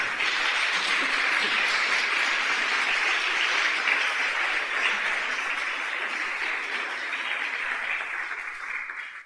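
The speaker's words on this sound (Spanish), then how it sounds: "Denle un aplauso, Señor." A church congregation gives a long round of applause, dense and steady clapping that holds strong before easing off slightly toward the end.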